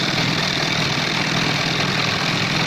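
An electric sewing machine runs in a steady, continuous whirr while stitching the placket of a men's shirt, with no pauses or voices.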